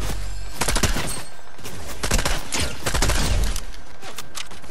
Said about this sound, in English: I got shot from somewhere else.